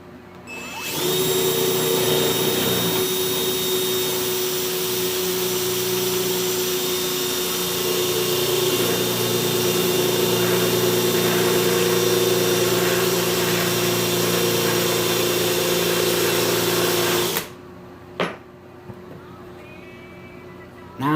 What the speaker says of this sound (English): I'm going to see if this will set a screw in it straight